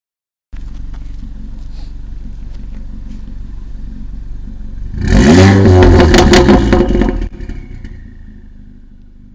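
An Audi S3 tuned past 500 hp with a Milltek exhaust idles low and steady on a sandy road, then launches into a loud, rising full-throttle 0-60 pull lasting a few seconds before easing off.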